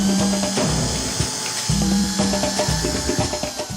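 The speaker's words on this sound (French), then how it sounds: "On commence par percer le couvercle." A power drill bores holes through the plastic lid of a homemade vermicomposter bin, its motor whining in steady bursts that drop out briefly mid-clip before resuming, loud and close.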